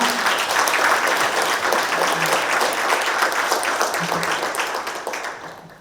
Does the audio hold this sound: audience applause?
yes